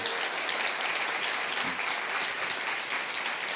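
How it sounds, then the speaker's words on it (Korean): A conference audience applauds steadily to welcome speakers onto the stage, a continuous wash of clapping hands throughout at moderate distance. "우리 나오실 때 힘 있는 박수를 맞으시면 좋겠습니다."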